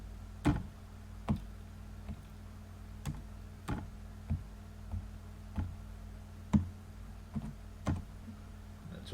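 Slow, spaced keystrokes on a computer keyboard while text is entered in Adobe Fireworks for a banner design, about a dozen sharp clicks over a low steady hum, close and fairly quiet.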